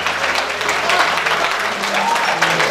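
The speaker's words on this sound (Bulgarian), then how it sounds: "Аплодисменти за нашите прекрасни младоженци!" Wedding guests applauding the newlyweds, a loud, continuous wash of clapping from a large crowd, with faint music beneath and a few voices in the mix.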